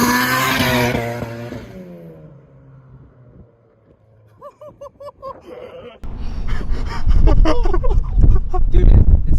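A turbocharged Honda Civic engine revs loudly and close up for about two seconds, then drops away to quiet. Some brief knocking follows, then a burst of loud, rough broadband rumble.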